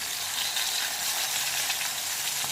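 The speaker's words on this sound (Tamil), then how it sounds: "இந்த மீன் என்ன கையில் சிம்மில் வச்சுமே பயங்கரமாக தெரிக்குது" Fish fries in coconut oil over a low flame, giving a dense, continuous close sizzle with fine spitting and splattering crackles throughout and no talking.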